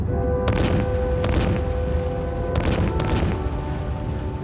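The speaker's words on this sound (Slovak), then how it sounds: "Strieľajú z diel." Several sharp booms of cannon fire go off in a rough sequence, two close pairs, over a steady low roar and a constant tonal hum.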